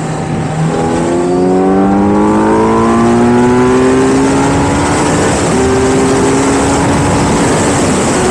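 A 2024 Kawasaki Z900 SE motorcycle rides by and revs up loudly and close, its engine note climbing through several gear pulls with steady road and wind roar beneath, no voices present.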